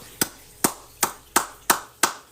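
Six sharp, evenly spaced hand claps from a single person, close and loud with short gaps between them and no talk over them.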